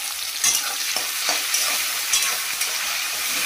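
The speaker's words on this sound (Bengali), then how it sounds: "চিংড়ি মাছ আর এগুলো ভেজে নেবো" Prawns frying in a pan with onion, garlic and black cumin give a continuous loud sizzle broken by several sharp stirring scrapes and spatula knocks, all close by and with no talking.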